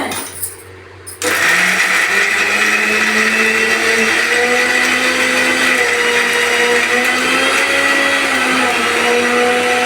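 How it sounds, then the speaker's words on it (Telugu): Mixer grinder running with sweet potato chutney inside, a loud steady whine that starts abruptly after a brief quiet moment and keeps going, with no voices. "వీటిని మళ్ళీ మిక్సీ చేద్దాము."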